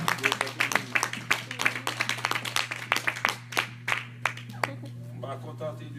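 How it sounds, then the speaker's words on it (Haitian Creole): A church congregation claps and applauds in bursts of sharp, uneven hand claps that rise and then thin out toward the end, with a steady hum underneath and a voice speaking over it. "prêtez-nous deux mains, on bâton, gros bravo pour Seigneur Jésus"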